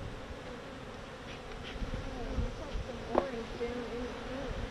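Honey bees buzzing steadily on a hive frame during an outdoor beekeeping lesson, a close, continuous drone with a few louder passes, and faint voices in the background.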